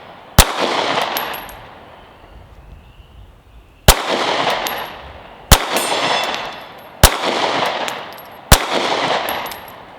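Sig P365 Gen 2 pistol firing a 12-round magazine: five sharp, loud shots spaced irregularly a second or more apart, each with a ringing outdoor echo decaying into quiet between them.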